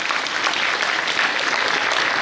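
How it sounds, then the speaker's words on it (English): Steady, dense applause from a large audience honouring teachers at a school's Republic Day celebration, loud and continuous throughout with no voices over it. "Can we have a huge round of applause for all the teachers who work hard?"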